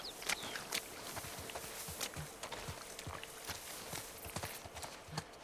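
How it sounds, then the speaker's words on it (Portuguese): Horses' hooves clip-clop at a walk in The Last of Us Part II, an uneven run of soft, fairly distant hoofbeats over quiet background ambience, with no talking. "Beleza, olha os cavalos aí"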